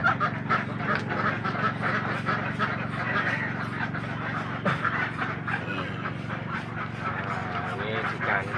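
Jumbo Manila Muscovy ducks in a pen in Tulungagung, East Java, give soft, steady hissing and breathy quacking noises close by, under a constant hum, while someone talks over them.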